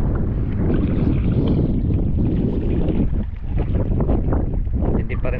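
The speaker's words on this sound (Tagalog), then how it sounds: "malakas na naman po ang hangin" Strong wind roars steadily across Taal Lake around a small fishing boat, buffeting the microphone in a continuous, close, heavy rush with no talk.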